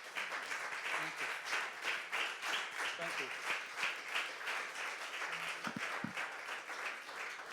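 Audience applause greets the keynote speaker at an African art music symposium lecture, a steady dense wash of clapping throughout with a brief spoken thanks near the end.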